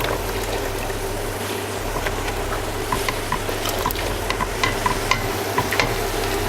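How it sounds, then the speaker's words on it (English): Paccheri pasta finishes cooking in its sauce in a pan, a continuous close sizzle and bubbling with a low steady rumble underneath and light clicks and stirring scrapes throughout. "We're gonna finish cooking the pasta with the sauce."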